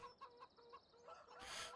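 Free-range chickens on a farm in Farming Simulator 17 cluck in a rhythmic series of soft, close calls, ending in a louder, harsher squawk.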